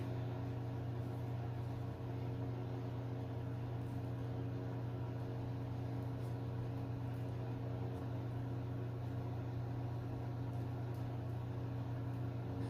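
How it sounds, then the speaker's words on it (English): Steady, low, continuous hum of a household ceiling fan running in a quiet room, a faint even drone with no change over its length. "I didn't realize how loud my ceiling fan was until just now"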